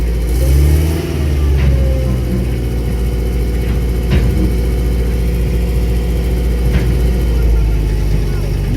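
A recovery truck in Oman slowly winches a crashed car up onto its bed, its engine droning steadily and loudly under wind-like roar, with occasional faint clanks from the chain and rigging.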